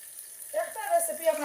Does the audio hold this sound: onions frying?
yes